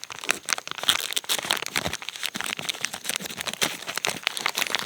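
Plastic bags holding fire plugs crinkle and rustle continuously inside a small possibles pouch, close up, with dense crackling bursts throughout and no talking.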